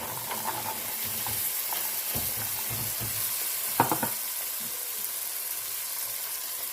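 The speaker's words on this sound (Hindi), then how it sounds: "अब हम इसमें सबसे पहले चने की दाल डालेंगे।" Chana dal goes into frying masala in a pan: a continuous sizzle with scraping stir strokes and a brief louder clatter partway through, without speech.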